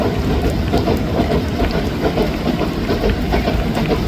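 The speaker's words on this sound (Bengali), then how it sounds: "এই বৃষ্টির মধ্যেও মানুষ ছাদে ট্রেনের ছাদে বসে আছে দেখুন অবস্থা" A train running through rain, heard as a continuous loud rumble of wheels and carriages blended with a dense rainfall hiss, steady throughout with no voices.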